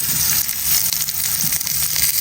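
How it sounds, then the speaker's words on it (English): Wagyu steak sizzles on cast iron in a dense, steady crackling hiss with fine pops, loud and close throughout, with no voices. "Can you see all that sizzle going on right there?"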